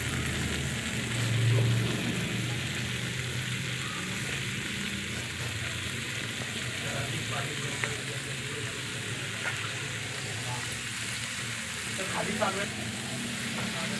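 Finely chopped fenugreek leaves frying with browned onions in a pan on a home stove, a steady soft sizzle running throughout at moderate loudness with faint occasional stirring clicks.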